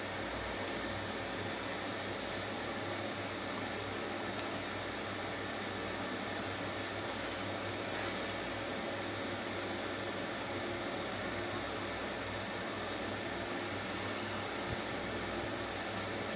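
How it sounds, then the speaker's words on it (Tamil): Onion and curry leaves sauté in a pan for mutton kulambu, a continuous, close hiss of sizzling oil that stays even throughout, with no talking. "இப்போ வெங்காயம் அதோட கொஞ்சம் கறிவேப்பிலை சேர்த்து நல்லா கலந்து விட்டுக்கலாம்."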